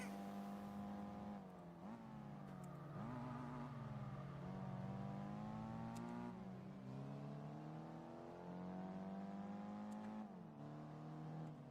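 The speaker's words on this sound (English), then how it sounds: "You can just hear the whine of the engine behind us." A heavy American car engine in Gran Turismo 4 whines loudly and steadily, pitch sliding up and down with throttle and gear changes, with no voices over it.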